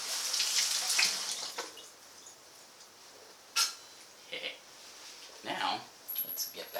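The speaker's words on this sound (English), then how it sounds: "Wash my hands." Hands are washed under a running tap, with faint, intermittent splashing and water hiss in brief bursts and quiet gaps.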